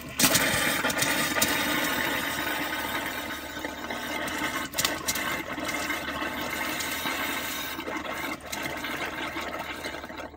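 Steady rushing hiss of air forced through RV plumbing lines, with sputtering bursts of water, continuous for several seconds with a low hum underneath.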